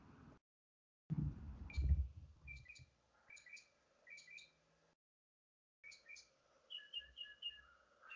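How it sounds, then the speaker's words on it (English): A mockingbird sings in short bursts of bright, repeated chirps and trills, separated by brief silences. It sounds fairly close and clear, with a low rumble at the start. "That's the sound of a mockingbird that doesn't realize I like to sleep"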